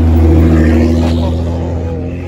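A Nissan GT-R at a car meet gives a loud, close, deep engine rumble and drone that gradually fades, with crowd noise in the background.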